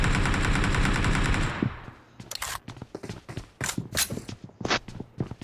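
Shooter video game gunfire: a loud, rapid automatic burst for about a second and a half, followed by scattered single shots and sharp clicks of varying loudness.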